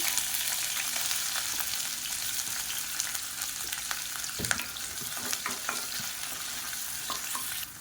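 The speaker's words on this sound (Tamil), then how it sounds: "இப்போ எண்ணெய் நல்லா சூடானதும் 1 கை அளவுக்கு நீளமாக நறுக்குன வெங்காயம் சேர்த்துக்கலாம்" Sliced onions fry in hot oil with a steady sizzle filling the whole stretch, while a utensil stirs and scrapes the pan in scattered clicks and knocks, close and fairly loud, with no talking.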